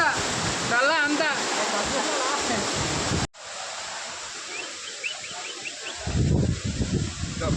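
A waterfall at Araku roars as a steady, loud broadband rush, with voices talking over it early on and a sharp cut partway through before the water noise resumes.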